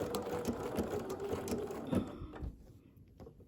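A sewing machine running a blanket stitch along appliqué fabric, with a steady mechanical whir and needle clatter that is close and continuous, then slows and stops with a few faint clicks.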